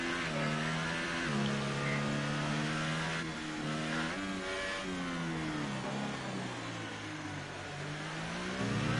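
A McLaren race car engine in a racing video game revs steadily and loud, the pitch climbing through gear changes and dropping once before rising again, with no talk over it.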